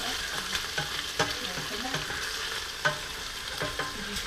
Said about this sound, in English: I'm going to get the other peppers in and garlic.